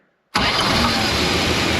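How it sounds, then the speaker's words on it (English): A car engine with a hot-start problem suddenly catches and fires up after near silence, then runs at a loud steady idle close by, with no talking. "Oh, or the engine will start up."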